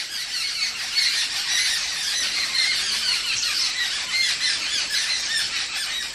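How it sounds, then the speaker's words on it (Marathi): Birds give loud, continuous alarm squawks and shrill cries together, a dense overlapping chorus outdoors near a wood-fired stove, steady throughout with no talk. "पाखरं एकमेकांना सावध करत असतात की बाबा काहीतरी धोका आहे."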